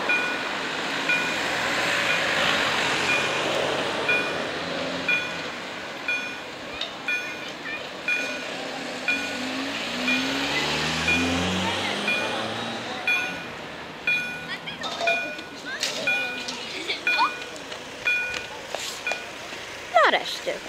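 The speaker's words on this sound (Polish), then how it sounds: "Nareszcie, po 10-minutowym opóźnieniu, nareszcie pociągi raczyły przyjechać" Regio passenger trains rumble loudly through a railway level crossing on Żeromskiego Street in Władysławowo in August, with a warning bell pinging steadily throughout and someone speaking Polish over the passing wheels.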